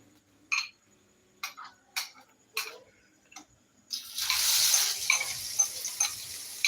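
A masala egg omelette mixture hits a hot pan and sizzles in a sudden close hiss that carries on for a few seconds, preceded by several sharp taps and clinks of utensils.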